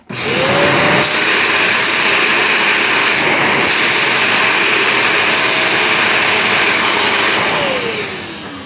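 A Shark StainStriker HairPro PX251 portable carpet cleaner runs loud and steady at a sink with its crevice tool, a continuous motor whine and suction rush holding nearly unbroken from start to finish, then easing off near the end.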